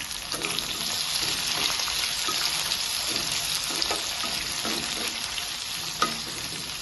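Onions frying in a pan for a carrot and moong dal curry make a continuous dense sizzle and hiss, with faint stirring scrapes and one sharp tap near the end.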